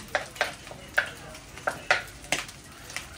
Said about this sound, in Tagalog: At ating ginigisa natin siya sa mantika